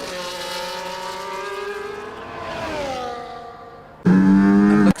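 Formula One race cars in an F1 esports video game at Spielberg, engines droning and shifting pitch together before a sudden louder, close engine roar takes over near the end; no voices.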